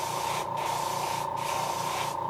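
A spray can hisses steadily while coating a custom-painted Creek Chub fishing lure, one long close spray broken by two brief gaps, with no voices.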